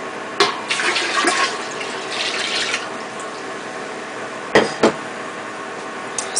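Strained pineapple skin and rind liquid splashes and gurgles as it is poured, with a few sharp knocks and clunks of a container, close by and without speech.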